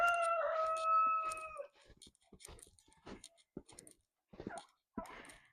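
Chickens outdoors in snow, dust-bathing: a close rooster crow rings out first, followed by scattered soft clucks and scratchy rustling bursts.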